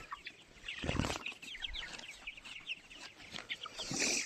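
One-month-old tiger chickens squabble and fight, giving rapid high-pitched chirps and clucks with a burst of wing flapping, close by and fairly faint.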